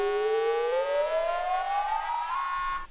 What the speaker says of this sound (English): Add some reverb on that rise.